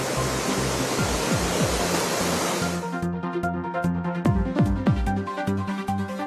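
Water rushing from the Mettur dam as Karnataka releases its flow, a dense steady roar that later thins into broken splashing and churning with rhythmic surges, loud and continuous without any voices.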